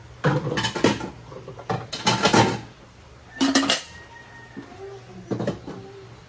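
Dishes, pots and plates being washed after a meal in a rural provincial home, sharp clinks and clatters of crockery and cutlery in irregular bursts, close by, with quiet pauses between.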